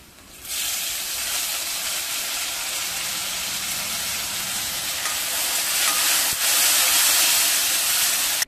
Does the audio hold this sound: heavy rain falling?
no